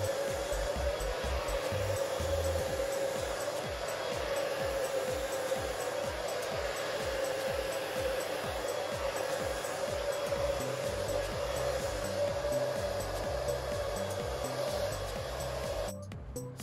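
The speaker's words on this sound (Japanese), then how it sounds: "次にブラシで溶かしながら乾かしていきます。" A hair dryer blows steadily on hair while a brush works through it, a loud continuous whooshing hum close by that cuts off abruptly near the end.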